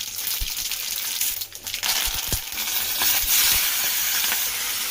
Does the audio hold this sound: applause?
no